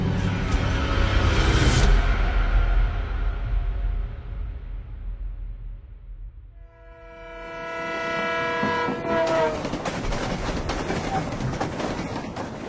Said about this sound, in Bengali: হুহু করে ট্রেন ছুটছে জঙ্গলের পথ ধরে।